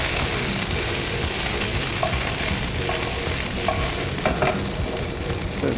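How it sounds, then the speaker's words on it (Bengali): Steady, dense frying sizzle from a pan of cauliflower pakora seasoned with salt, continuous and fairly loud, with occasional soft clicks of a utensil stirring. "লবণ দিয়ে ভেজে নিচ্ছি"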